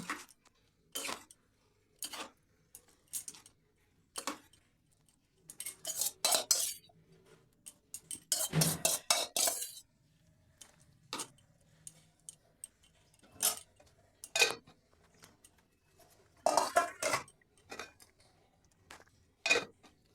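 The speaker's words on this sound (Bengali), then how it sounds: "সেদ্ধ করে রাখা মটরের ডাল আমি পরিমাণ মতো মিশিয়ে নিচ্ছি" Boiled pea lentils being mixed into khichuri in a pot, heard as sharp metallic spoon clinks and scrapes against the pot in irregular bursts, close and fairly quiet with brief pauses between strokes.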